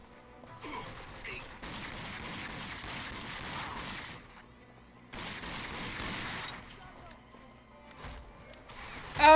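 Gunfire in the video game Rage comes in two sustained bursts of rapid shots with quiet gaps between them, and a sharp loud hit lands at the very end.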